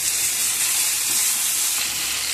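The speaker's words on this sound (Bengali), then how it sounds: "সবকে নাড়াচাড়া করে নেব। এর মধ্যে দিয়ে দেবো টমেটো" Cumin, whole dried red chilli and five-spice seeds frying in oil as tomato goes in, giving a steady, loud, close sizzle with stirring throughout.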